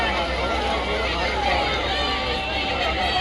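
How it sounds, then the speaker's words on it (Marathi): Dense crowd hubbub at a buffalo fair, the Mhasa Jatra of 2025, a steady wash of many overlapping voices and bustle holding at an even level throughout with no single voice standing out. "खतरनाक खतरनाक गर्दी आहे."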